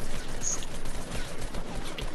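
Dense, continuous gunfire in a Fortnite match, a steady rattling barrage of shots lasting the full moment at moderate loudness, with no talk over it.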